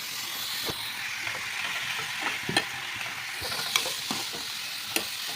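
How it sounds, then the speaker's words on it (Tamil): Banana flower stir-fry with turmeric being stirred in a pan, a soft crackling sizzle with scattered sharp scrapes and taps of a spoon at irregular moments. "மஞ்சள் தூள் சேர்த்து கொஞ்சம் கிளறி விடலாம்"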